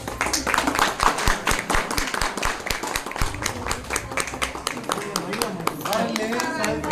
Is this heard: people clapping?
yes